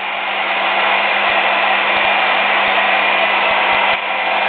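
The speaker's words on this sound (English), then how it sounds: "stand and look at the hairdryer as it's blowing and drying" A hair dryer blows steadily to dry freshly recolored leather seats, giving a loud, constant whirring roar with a low motor hum underneath and a few faint clicks.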